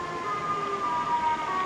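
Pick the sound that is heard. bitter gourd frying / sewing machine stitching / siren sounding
siren sounding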